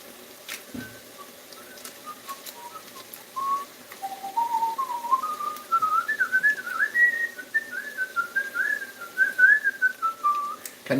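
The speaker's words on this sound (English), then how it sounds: "Can you whistle inwards as well as out?" Someone whistles a wandering, lilting melody, starting faint and growing clearer and louder, with soft breathy gaps between phrases.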